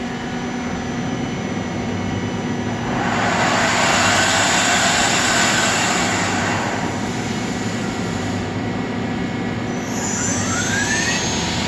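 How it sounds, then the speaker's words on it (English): Sub spindle of a Mori Seiki ZT 1000Y multi-axis lathe running; a steady, loud mechanical whine and hum that swells slightly in the middle and holds constant, with a faint rising tone near the end and no voices. "That's the sub spindle running."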